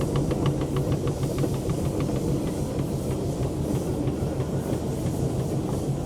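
A steam engine at a village steam rally rolls along steadily, with a loud continuous rumbling chug and faint rhythmic clanking ticks throughout, alone with no talk.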